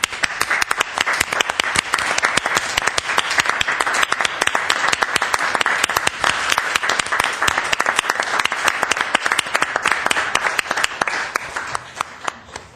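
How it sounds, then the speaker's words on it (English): Audience applause for volunteers being recognized at a Glendale parks and recreation commission meeting, a dense, steady round of clapping from a room full of people that holds strong throughout and tapers slightly at the end. "if you could just stand so we can give you one more round of applause before you leave"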